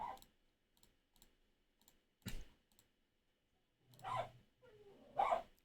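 A small dog gives a few sharp, separate barks, close and fairly loud, spaced out amid quiet stretches with faint clicking in between.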